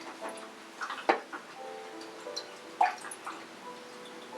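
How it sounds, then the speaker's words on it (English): A paintbrush used with acrylic paint is swished and tapped in a water jar, giving small, close, intermittent splashes and clinks against the glass in a quiet room. "Then wash your brush really well again."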